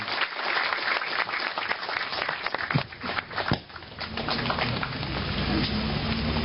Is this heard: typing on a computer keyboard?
no